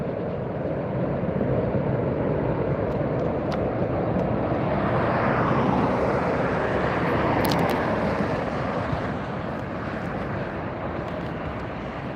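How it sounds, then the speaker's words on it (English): The world's largest passenger jet lands up close at LAX, its broadband engine roar steady and loud for the whole stretch, swelling slightly midway as it passes near, with no talk over it. "To see the largest passenger jet in the world come right in front of you that close."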